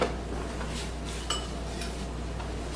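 A spoon scrapes through a halved cucumber, scooping out the seeds, with faint soft scraping and a couple of light clinks against a quiet kitchen hum.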